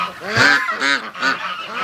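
Geese honk close by in the cool morning, four loud, nasal calls in an uneven rhythm, with no voices.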